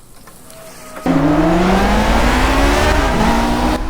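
A race car engine in Project Cars roars up suddenly and holds loud and close, pitch climbing through gear shifts with a brief dip before rising again.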